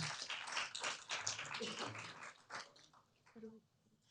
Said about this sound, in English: Let's give our Rita a round of applause for.